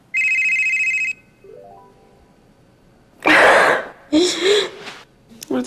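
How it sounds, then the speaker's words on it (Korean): A telephone rings once in a short, loud electronic burst, followed by a faint falling tone. After a pause, close breathy vocal sounds like a gasp and clearing of the throat follow. "한 통의 전화가 걸려왔습니다."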